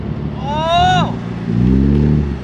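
A BMW M3 engine hums and briefly revs as the car reverses, a steady close drone with a rising-then-falling whine, while people talk excitedly over it.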